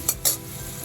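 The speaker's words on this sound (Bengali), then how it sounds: "এবার আলুগুলো আমি একটু লাল লাল করে ভেজে নেব" Potatoes frying in oil over medium flame, a low steady sizzle broken by two short bright scraping stirs close by, no voices.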